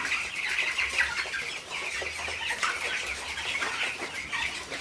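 A house of broiler chickens on bedding clucks continuously in a busy, overlapping chorus of soft calls and murmurs that fill the space at moderate loudness, with no talking.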